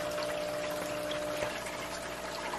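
Water siphoned from an aquarium tank setup, carrying some clay, is poured out in a faint, steady trickling gush lasting a couple of seconds with no talk.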